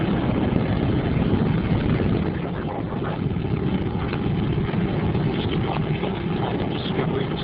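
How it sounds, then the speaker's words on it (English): Space Shuttle Discovery's booster ignition and liftoff, heard from the cockpit as a loud, steady, broadband roar that continues without pause for the whole stretch. "booster ignition, and liftoff of the Space Shuttle Discovery"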